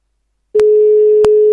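A telephone busy signal: one steady, loud tone held for about a second after silence, broken by two faint clicks, with no speech.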